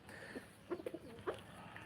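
A wild bird calls faintly with a few soft, cooing notes in two short bursts while feeding on insects among grasses and weeds, heard alone against quiet outdoor background.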